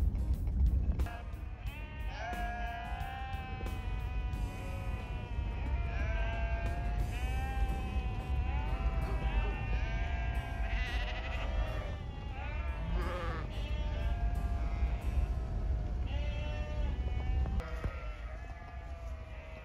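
A herd of sheep bleats in the Schell Creek Mountains of eastern Nevada, many overlapping cries rising and falling continuously over a steady rumble, driven by a herder on an ATV with a dog.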